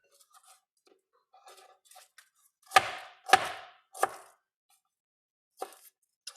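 A knife chops vegetables, including cauliflower core and stem, on a cutting board, with three sharp, distinct thuds in the middle and a fourth later, preceded by light tapping and handling sounds, close and otherwise quiet.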